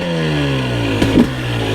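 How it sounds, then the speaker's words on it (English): A new two-stroke dirt bike engine drones close and loud with a steady buzzing tone, with a brief sharper rev burst near the middle. "I'm really digging the sound of the two-stroke, like, whoo, it's so nice."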